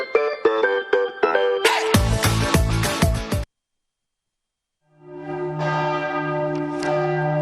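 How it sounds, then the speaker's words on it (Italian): Church bells in Cividale del Friuli during the Mittelfest festival, loud and close, ringing in a rapid clanging peal. The peal breaks off into a second and a half of silence, then a deeper bell swells in and hums on, with no talk. "le campane stanno suonando"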